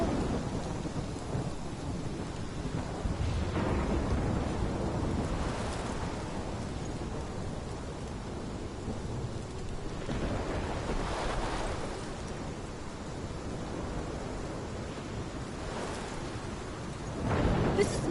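Thunderstorm in the video game Life is Strange: steady heavy rain with rolling thunder rumbling throughout, swelling into louder cracks near the middle and end, no voices.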